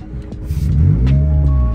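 A car with an aftermarket exhaust revs up hard in a short first-gear burst, climbing in pitch and holding a loud, throaty growl close by.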